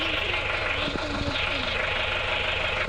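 A tractor engine idles steadily with a low, continuous rumble and faint knocking throughout, loud and close.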